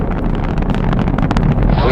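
Saturn V rocket engines roar at liftoff, a loud, dense, continuous rumble broken by wind buffeting, with a voice talking over it.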